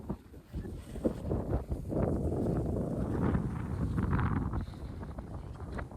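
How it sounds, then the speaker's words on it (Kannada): Strong wind gusting across an open hilltop fort, a loud continuous roar buffeting the microphone throughout, swelling and easing slightly with no other clear sounds. "ಗಾಳಿ ಆದರೆ ಜೋರಾಗಿ ಬರ್ತಿದೆ"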